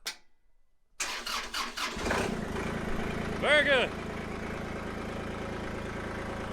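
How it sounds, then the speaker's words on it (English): A Kubota tractor's diesel engine cranks with a few rapid turns, catches and settles into a steady, rumbling idle, close by; someone speaks briefly over it. "Kubota has been fired up, so let's just see if it's gonna crank."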